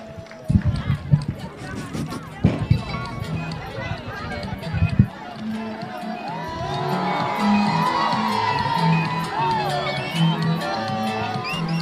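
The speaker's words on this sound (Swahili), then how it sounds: "Tumpigie makofi mazuri." At a political rally in Turkana, Kenya, a crowd's noise starts with scattered loud thumps and shouts, then swells into sustained cheering and whooping babble from many voices.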